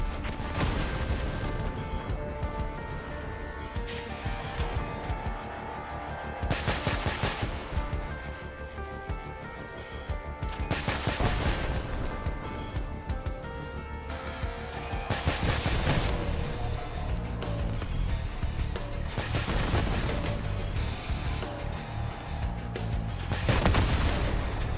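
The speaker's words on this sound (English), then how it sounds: "using rocket launchers of any kind just feels so satisfying" A rocket launcher fires repeatedly during a video game raid, each launch followed by a loud booming explosion at intervals of a few seconds over continuous background game noise.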